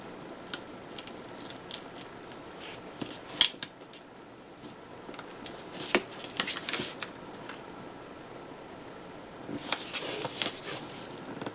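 Scissors cut paper for a planner in scattered, crisp snips and light rustles, close and fairly quiet, with no voices.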